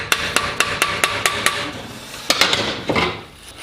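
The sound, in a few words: someone hitting with a hammer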